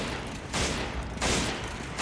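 Bursts of video game gunfire, two dense broadband volleys roughly half a second long separated by quieter stretches, steady and fairly loud throughout.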